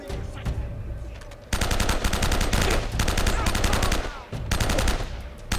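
Loud, rapid automatic gunfire in the video game Uncharted: Drake's Fortune, dense continuous bursts broken by two brief pauses.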